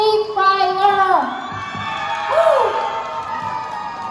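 A crowd cheering and whooping with loud shouts at a live music show, welcoming a band on stage, with the voices fading into a lower murmur of crowd noise.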